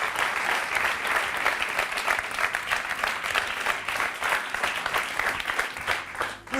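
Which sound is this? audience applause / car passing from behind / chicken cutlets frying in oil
audience applause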